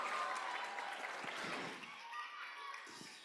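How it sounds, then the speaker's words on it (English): Audience applause at a WSC Surabaya Round 2025 show, a fairly faint, dense spread of clapping that swells early and slowly tapers off, with a few voices mixed in. "Could we give them a round of applause?"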